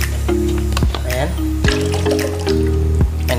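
Water running from a newly unboxed water dispenser into a container, a gurgling, bubbling flow with dripping tones heard close, partly under talking.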